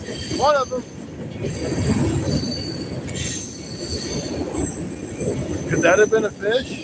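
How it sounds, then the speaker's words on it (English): Train rolling past near the Mississippi River during catfishing, a loud steady rumble with squealing wheels throughout, while people talk nearby. "Man, that train's loud."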